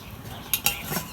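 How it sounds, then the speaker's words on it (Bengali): A wok set down on a lit stove for boiling eggs and potatoes for a country-chicken egg curry gives two quick metallic clanks close by, over a low steady background hiss. "চুলাই আগুন দিলাম এখন আমি কড়াই বহে দিব"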